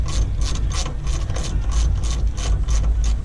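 Steady rapid clicking of a ratchet backing out bolts from a rotted bass boat transom, close and loud, a continuous run of pawl clicks with no talk.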